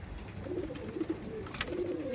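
Domestic pigeons of the Madrasi breed, young birds kept at a house, cooing in soft low repeated calls close by, with a brief sharp noise partway through.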